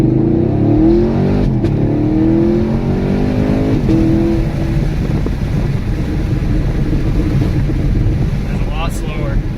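A 2019 Chevrolet Camaro SS with a 10-speed automatic accelerates from 0 to 60 mph with traction control on. Loud, steady engine roar rises through several upshifts, heard from inside the car, with wind noise throughout.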